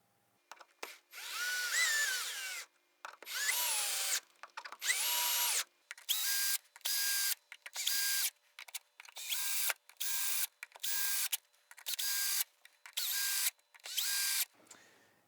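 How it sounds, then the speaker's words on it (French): A power drill drives screws into wood while a homemade dry toilet is assembled, running in about a dozen short, loud whirring bursts separated by brief silences, with no voices. "Une fois les vis positionnées, il ne reste plus qu'à visser."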